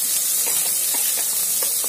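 Tomatoes land in a hot pan for a Chettinad mutton gravy and sizzle steadily, a bright continuous hiss with faint popping crackles throughout, close and alone with no talk.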